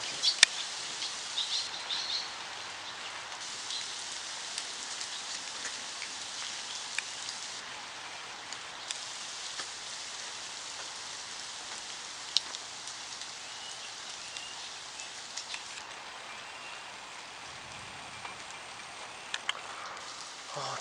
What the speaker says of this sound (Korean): 비는 언제 그치려나 여기 갇혀버렸네